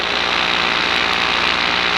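A paramotor engine fresh from a 50-hour service, with new spark plug and cleaned airbox, runs steadily at low revs, a close, loud, even buzzing drone with no talking.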